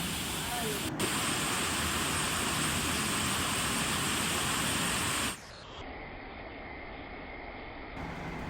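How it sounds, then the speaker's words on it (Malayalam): Steady, loud roar of rushing water from Thusharagiri waterfall in Kerala, swollen by rain, broadband and continuous, with a brief sharp knock early on and a drop in level near the end. "നല്ല രസമാട്ടോ കാണാൻ വെള്ളം ചാടുന്ന കാണാൻ"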